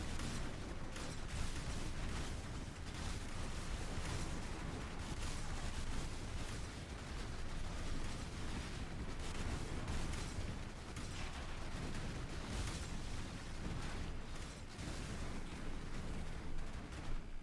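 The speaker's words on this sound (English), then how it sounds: "Look at those explosions." Continuous dense rumbling blasts and crackling bursts pile on each other without pause, a loud, sustained barrage of explosions in Path of Exile.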